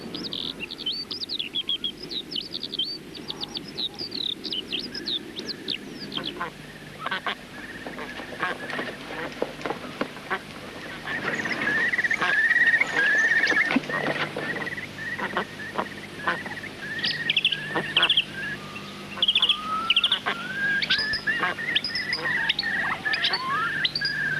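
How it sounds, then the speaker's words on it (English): A skylark twitters in a continuous stream of high, rapid chirps and trills, steady and fairly clear outdoors. "things that we can hear twittering above us, like this skylark, stay all the year round"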